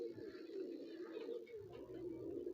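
A high-flyer pigeon coos softly nearby in a low, rolling, continuous murmur, faint and close, with no talk over it.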